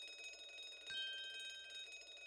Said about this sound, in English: This would appear to be an alarm bell.